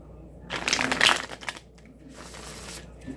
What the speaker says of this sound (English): And one more shuffle and then cut the deck.